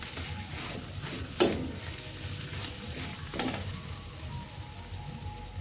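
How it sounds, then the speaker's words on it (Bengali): Potato paratha filling, boiled mashed potato, being stirred and mixed in a pan: a steady soft frying sizzle with two sharper scrape-like clicks of the spoon, no talking. "ভালো করে এটা মিশিয়ে দিই।"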